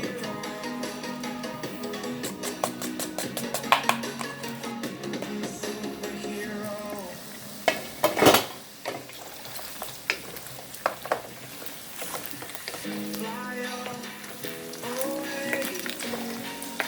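Beef searing in a pot for a Jamaican red peas and pigtail stew, a low steady sizzle with occasional sharp utensil clanks and scrapes, partly masked by background music.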